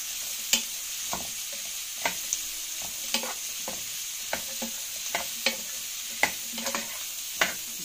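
Onions sauté in a pan with a steady background sizzle, punctuated by about a dozen sharp scraping clacks of the spoon stirring at a loose, irregular rhythm.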